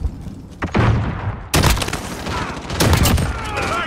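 A flashbang grenade in a shooter game goes off with a sharp, loud burst amid gunfire and muffled booms, with brief voice callouts around it.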